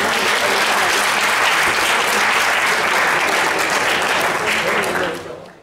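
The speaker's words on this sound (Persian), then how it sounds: "تشویقشون بفرمایید." An audience at a Wikipedia education program presentation claps loudly and densely for about five seconds before the applause tapers off at the end.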